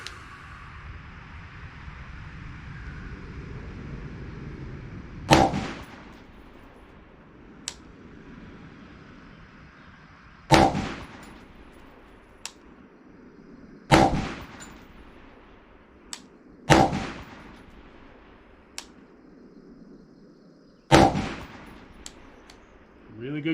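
Five loud, sharp rifle shots fired at a target 50 yards away, spaced a few seconds apart with quieter clicks between them, over low outdoor background noise.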